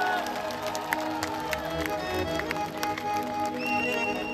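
Audience at a live Punjabi concert in Delhi claps along in a steady, dense patter of rhythmic applause beneath music and voices.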